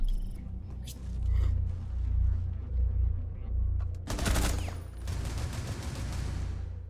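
A burst of loud gunfire in Rainbow Six Siege erupts midway, several rapid shots cracking over a constant low rumble, then tailing off into a lingering noisy wash.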